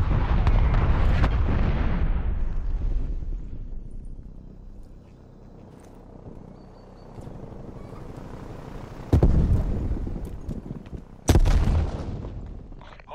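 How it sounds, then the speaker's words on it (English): Artillery strike explosions in the Black Ops Cold War video game: heavy booming blasts rumble early, then two sharp loud detonations land near the end over a low background din. "Artillery targeting detected."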